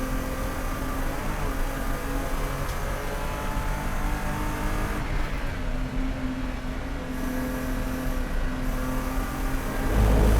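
Race car accelerating hard around the track during a Gridlife GLTC race at Lime Rock Park, a constant loud engine drone from onboard that holds steady throughout without talk.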